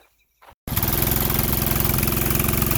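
A small Honda GX200 engine on a mini go kart starts after a brief near-silence and then runs steadily, a loud, close, evenly pulsing putter that holds throughout.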